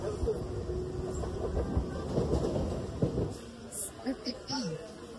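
Inside a moving train, a low rumbling roar of the carriage runs throughout, with a voice talking over it at close range.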